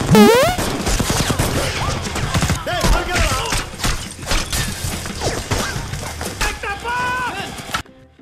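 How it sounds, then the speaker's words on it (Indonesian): Rapid bursts of film gunfire in a tense mafia shootout, loud and dense with crashes and shattering mixed in, layered under music and effects for several seconds before cutting off. "Di tengah adu tembak."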